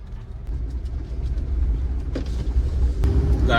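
A car drives along a road on a trip through coastal Konkan, a constant close engine rumble and tyre roar with a couple of sharp knocks partway through and no voices.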